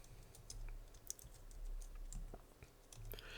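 Quiet typing on a computer keyboard while code is entered, soft rapid key clicks running steadily throughout with no voice.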